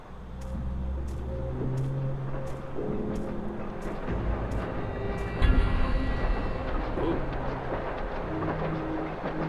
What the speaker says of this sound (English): Those freight trains pass by at least once every 5 minutes all day long.